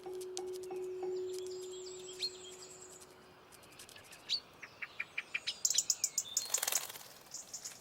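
Chaffinches, blackbirds, blue tits and robins call and sing in autumn woodland, with a long steady whistle early on, scattered chirps, then a rising run of sharp rhythmic notes and a brief burst of wing flutter near the end.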